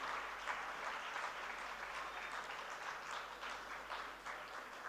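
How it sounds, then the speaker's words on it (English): An audience at an education and digital transformation summit applauds, a steady even clapping from a large crowd heard from a distance, fairly faint and with no talking over it. "a big round of applause, please."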